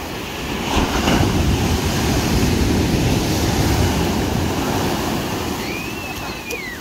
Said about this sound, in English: Big waves, oh my god.